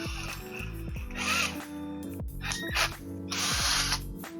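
Cordless electric drill spinning a whisk to mix ceramic glaze, a steady mechanical whir with short rattling bursts and a repeated whine, close and fairly loud throughout.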